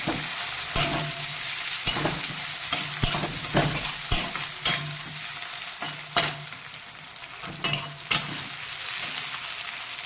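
Spice masala with tomato frying in hot oil for a Bengali fish curry, a steady close sizzle broken by repeated sharp scrapes and clacks of stirring at irregular intervals.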